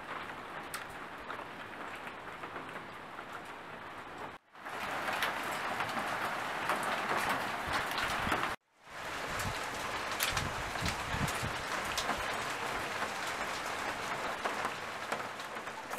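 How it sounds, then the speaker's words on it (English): Ice or sleet falls outside with a dense, steady pattering hiss, interrupted by two brief cuts, alone without talk. "there's like ice falling from the sky"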